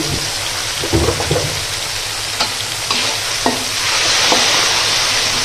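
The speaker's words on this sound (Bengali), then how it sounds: "ভালো করে নেড়ে চেড়ে নেব। এখন আমার মশলা কষানি শেষ।" Spices fry in a pan with a continuous close sizzle, punctuated by several distinct stirring scrapes and knocks of a spoon against the pan, the sizzle swelling louder toward the end.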